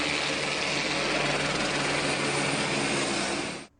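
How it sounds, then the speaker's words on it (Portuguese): A police helicopter flies low over central Rio de Janeiro communities, its steady loud rotor and engine roar filling the air without pause before cutting off abruptly near the end. "acordaram com o helicóptero da polícia"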